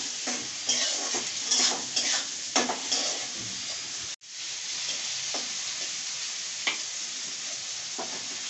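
Cauliflower seasoned with salt and turmeric fries in a pan with a steady, bright sizzle, broken by several clattering stirs and a short pause midway. No voices.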